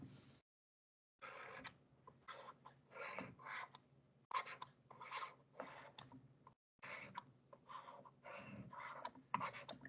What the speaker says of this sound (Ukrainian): Зараз я вам малюю лінійку інверторів